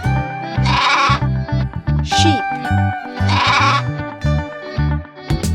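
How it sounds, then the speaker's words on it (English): Sheep bleat twice, loud and wavering, each call a couple of seconds long, over a bright, bouncy music bed. "sheep sheep"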